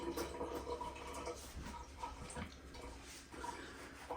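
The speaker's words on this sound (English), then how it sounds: "run them under cold water" Cold tap water runs steadily over freshly caught fish fillets being rinsed, a continuous close splashing rush with small shifts in flow as the fillets move under the stream.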